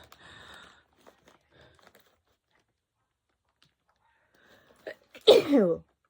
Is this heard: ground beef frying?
no